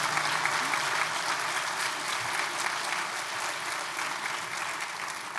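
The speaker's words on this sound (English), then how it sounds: "Can I get a round of applause?" An audience at a 2019 Human Development Week talk breaks into a round of applause, an even, continuous wash of clapping held at moderate loudness throughout, with faint murmurs beneath.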